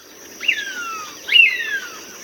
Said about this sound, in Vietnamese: Con diều hâu.